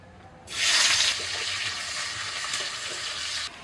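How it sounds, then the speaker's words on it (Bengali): Chopped onion hits hot oil left over from frying small Japanese punti fish, giving a sudden loud sizzle that settles into a steady crackling hiss until it cuts off near the end. "ওই মাছ ভাজা তেলের মধ্যে দিয়ে দিচ্ছি পেঁয়াজ কুচি"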